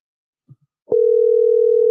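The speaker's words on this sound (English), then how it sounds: "Can y'all hear the phone ringing?" A phone call's ringing tone starts after a couple of faint clicks, a single steady electronic tone that holds loud and unbroken to the end.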